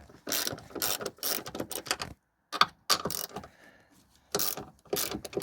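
Ratchet wrench loosening the three 12mm retaining bolts on the rear shock top of a Toyota Supra Mk4, a close, quick series of clicking bursts broken by short pauses.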